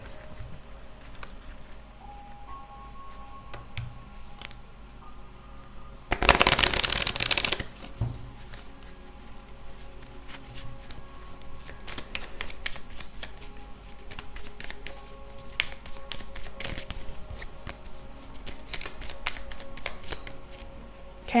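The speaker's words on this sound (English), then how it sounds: "let's give it a good shuffle." A deck of cards gets a brief, loud riffle shuffle in the middle, followed by softer scattered taps and flicks of cards being handled nearby.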